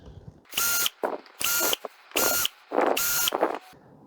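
Cordless power drill backing out TV wall-bracket screws on a Panasonic television, four loud bursts of about a third of a second each with short ratcheting gaps between them, close up and with no talking.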